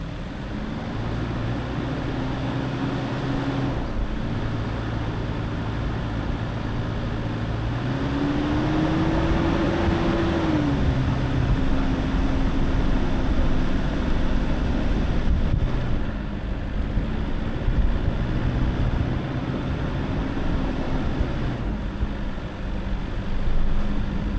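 A vehicle engine on the hilly Bang Kama route, droning steadily as it revs up and eases off with rising and falling pitch, under continuous wind and road rumble, no talking.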